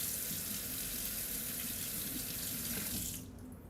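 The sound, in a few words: tap water running over a trumpet mouthpiece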